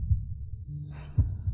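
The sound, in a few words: fast heartbeat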